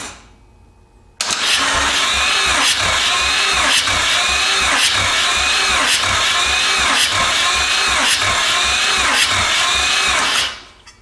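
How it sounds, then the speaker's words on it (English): Mazda 13B rotary engine cranking over on the starter during a compression test, a loud, even, rapidly pulsing whir that starts abruptly and runs steadily for about nine seconds before stopping. "Let's see if she cranks over and if we get compression."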